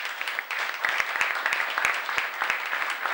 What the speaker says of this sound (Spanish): Le pido un aplauso para la...